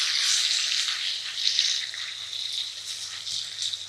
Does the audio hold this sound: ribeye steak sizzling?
yes